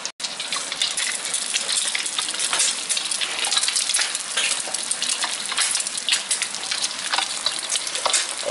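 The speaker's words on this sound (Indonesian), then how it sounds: "Kita goreng lagi telur satunya." An egg fries in a hot pan, a loud, dense sizzle and crackle holding steady throughout at close range.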